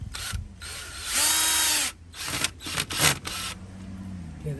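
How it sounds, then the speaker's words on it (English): A power drill drives a screw while installing a low-voltage landscape lighting transformer, whirring in several bursts, one long steady run followed by shorter uneven pulses, with faint clattering and no speech. "And then we just got to drill it right in."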